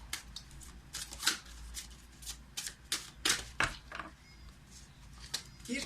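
Tarot cards are shuffled in a quick, crisp series of riffling flutters and snaps, close and fairly soft, with no talking.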